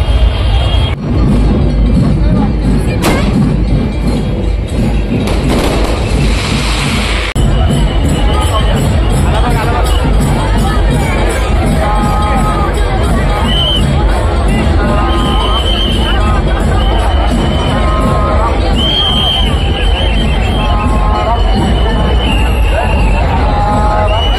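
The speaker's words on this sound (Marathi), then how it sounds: "पुढे जास्त गर्दी असली, इकडे जरा गर्दी कमी आहे" A dense festival crowd at the Ram Rath chariot procession in Nashik fills the air with a steady, loud hubbub of many overlapping voices, with occasional higher calls or whistles rising above the continuous murmur.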